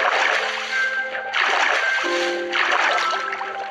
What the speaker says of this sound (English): This is my freaking mountain's water.